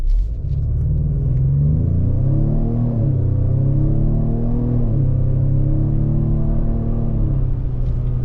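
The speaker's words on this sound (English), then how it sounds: "you get a lot more of that pumped in engine noise, that active sound design" A 2025 Ford Explorer Active 4x4 engine drones and rises as the SUV accelerates in sport mode with active sound design, its pitch climbing in a couple of sweeps, loud and close with a deep rumble throughout.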